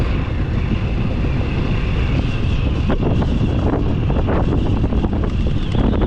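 Strong wind buffets the microphone in a loud, continuous roar with no voices.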